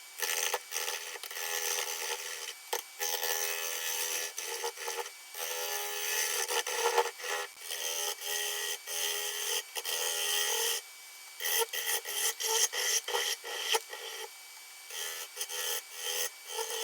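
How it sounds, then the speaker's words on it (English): Apple wood blank singing as it is hollowed on a lathe, a continuous high, close rasping whine with brief dips where the tool lifts off the wood. "This blank does a lot of singing throughout the hollowing process."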